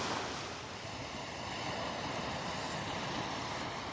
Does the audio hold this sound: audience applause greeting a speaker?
no